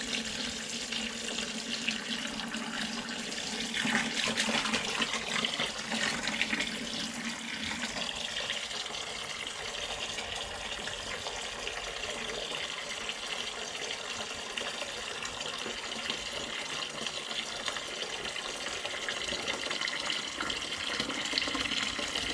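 Rainwater pours steadily into a bucket, a continuous close splashing and gushing that holds a constant level for the whole stretch, with no voices.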